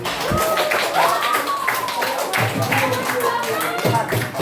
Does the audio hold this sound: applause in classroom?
yes